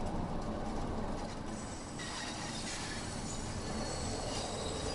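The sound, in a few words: Bakerloo Line train running and screeching, from video game Train Sim World 2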